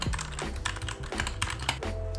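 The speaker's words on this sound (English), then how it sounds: "This is to show that the keyboard works." Rapid typing on an RK61 mechanical keyboard, a steady run of close, crisp key clicks and clacks with no voices.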